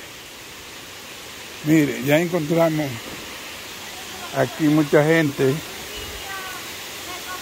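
A steady broad rushing roar of the Salto de Agua Blanca waterfall in Constanza fills the background throughout, with someone speaking over it twice near the water.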